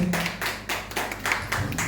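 An audience at a festival press cocktail applauds a speaker with a short burst of broad, washy clapping that swells and dips in several waves, close and fairly loud.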